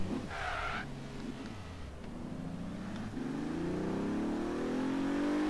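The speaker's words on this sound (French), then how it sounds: "je kiffe le bruit de la Bentley là" A Bentley in Forza Horizon 3 revs hard and accelerates, its engine note climbing steadily over a low rumble, loud and continuous with a brief tire skid early on and no talking.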